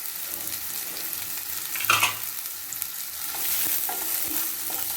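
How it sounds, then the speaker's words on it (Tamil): Dried red chillies, cumin and ginger sauté in a pan for a mild buttermilk curry, giving a steady close sizzle with a few spatula stirs and scrapes. "இந்த 2 காஞ்ச மிளகா, கொஞ்சமாக சீரகம், கொஞ்சமாக இஞ்சி, இதை நல்லா வதக்கி எடுத்துக்கணும்."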